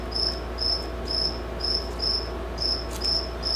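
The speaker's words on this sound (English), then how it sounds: "that cricket is just getting louder and louder" A single cricket chirps in rhythmic bursts of a high, clear trill repeating about every half second, close and steady over a low background hum indoors.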